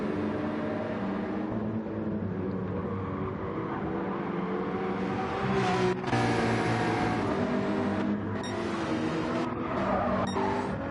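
Engine roar from a Porsche racing at Brands Hatch in Gran Turismo 7, a steady loud drone with shifting pitch and squealing tires as another car closes in, under a continuous mix with no talk.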